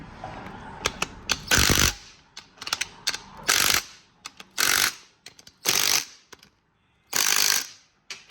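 A torque wrench ratchets as bolts are tightened to about 9 foot-pounds on the 2.4L engine of a 2011–2014 Hyundai Sonata during timing chain and oil pump work. The clicks come in several close, loud bursts separated by short pauses.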